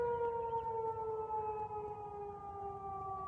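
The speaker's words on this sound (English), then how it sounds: "And the sirens are now diminishing." Civil defense sirens sounding a statewide tornado drill across Nebraska and Iowa, a steady sustained wail that slowly drops in pitch and eases in loudness, heard from a distance with no one talking over it.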